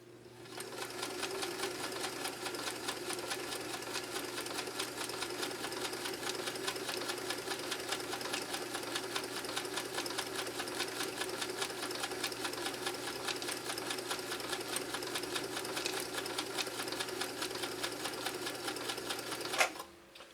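A Kenmore sewing machine stitches a stretch zigzag, running steadily with a fast, even mechanical chatter for about twenty seconds before it stops abruptly at the end.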